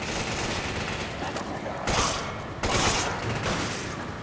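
Enemy gunfire in Resident Evil 5 rattles on steadily as a dense fusillade, with a couple of louder surges partway through and a voice faintly mixed in beneath.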